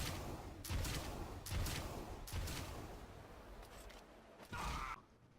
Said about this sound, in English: jump off this wall and then shoot another rocket below my feet to continue me going forward